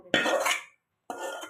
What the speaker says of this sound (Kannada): ಈಗ ಒಗ್ಗರಣೆ ಹಾಕ್ಬಿಟ್ಟು ಚೆನ್ನಾಗಿ ತೊಳಸ್ಕೋಬೇಕು